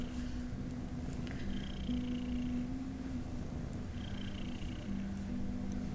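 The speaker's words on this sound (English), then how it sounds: "Loud purr." A cat purring loudly close by, a continuous low rumbling drone with rhythmic pulses, steady throughout over faint room noise.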